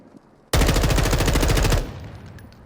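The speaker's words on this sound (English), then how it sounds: "That was the worst shooting ever." Loud automatic gunfire from Warzone 2 in one sustained rapid burst of about a second and a half, close and dominant, with no talking.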